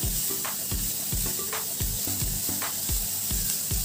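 Grated cabbage and other vegetables sauté in a hot pan, a steady bright sizzle broken by regular scraping stirs of a spatula roughly every half second, close and continuous with no talking.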